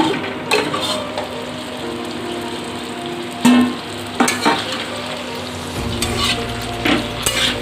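Pointed gourd (parwal) frying in a pan, a steady sizzle punctuated by spatula clicks and scrapes, with a low hum entering toward the end.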